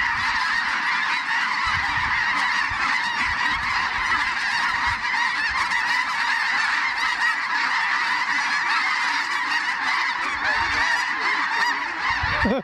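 Giant flocks of snow geese over a bale field in Canada fill the air with a dense, continuous chorus of honking, loud and sustained throughout.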